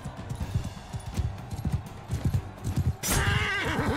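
In Mount and Blade Bannerlord, a horse's hooves clatter in a quick, uneven galloping rhythm, followed by a bright, close neigh near the end.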